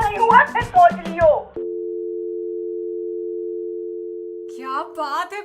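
A call is hung up, and a steady telephone busy tone drones for about three seconds after a woman's speech. More voices come back in over it.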